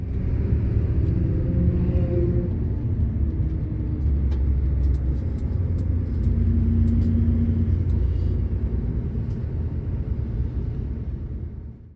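A bus engine rumbles steadily while the bus drives along a highland road, a deep continuous drone heard from inside the cabin, with faint rattles above it.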